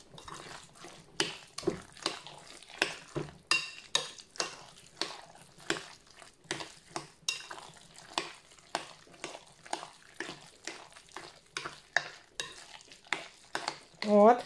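Chicken cutlet mixture with mayonnaise stirred in a bowl, a rhythmic run of wet squelching strokes roughly twice per second, close and fairly quiet.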